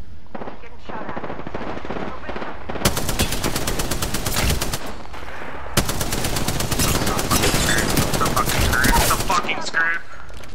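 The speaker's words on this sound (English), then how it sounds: "Getting shot at." Rapid automatic gunfire from an Apex Legends match, with a Spitfire light machine gun in play: two long, loud sustained bursts of fast shots, mixed with game effects and a player talking in between.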